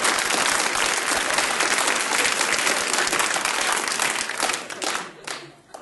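Theatre audience applauding during a Hungarian stand-up comedy show, dense sustained clapping filling the room and then thinning out and fading near the end.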